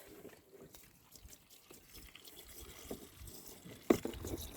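Water pours into the screen wash reservoir of a Mercedes S430, a steady faint splashing and trickling with a sharper splash near the end, no talk.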